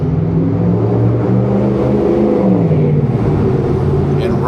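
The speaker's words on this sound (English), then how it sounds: "And rumbly motors going down Brock Street" Rumbly motor vehicles travel along Brock Street on a summer day, giving a steady, loud low drone of engines that stays constant for the few seconds heard.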